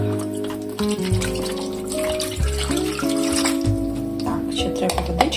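Liquid poured over stuffed peppers in a kitchen pan, a gurgling, splashing pour heard close up under background hum and clinks, lasting several seconds.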